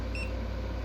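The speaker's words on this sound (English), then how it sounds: "you definitely want the beep on" An EG4 6000XP solar inverter touchscreen gives a single short, high electronic beep, clear and close, over a steady low hum.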